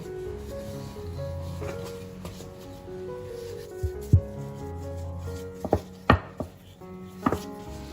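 A rolling pin flattens floured 40-gram portions of mochi-style dough into rounds. Soft, continuous rubbing is broken by a few light wooden knocks and taps near the end, all close and without talking.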